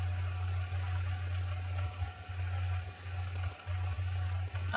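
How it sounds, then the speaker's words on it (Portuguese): A farm tractor rumbles along in the Professional Farmer 2014 simulation game, a steady low engine drone with a knocking, throbbing rhythm, close and continuous with brief dips. "depois fica o trator passando"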